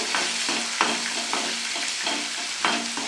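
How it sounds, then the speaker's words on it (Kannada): Chopped onions frying for Karnataka-style ridge gourd palya, with a steady close sizzle broken by several scraping stirs of a spatula across the pan, no voices. "ಇವಾಗ ಈರುಳ್ಳಿ ಹಾಕ್ತಾ ಇದ್ದೀನಿ ಈರುಳ್ಳಿ ಚೆನ್ನಾಗಿ ಫ್ರೈ ಆಗಬೇಕು"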